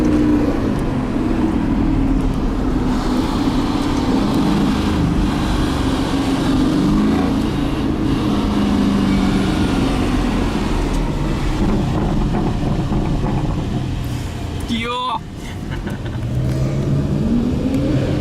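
A new Aston Martin Vantage drives in a supercar convoy, giving a steady, loud engine drone with road and wind noise, heard from inside the car. A brief whooshing pass comes near the end.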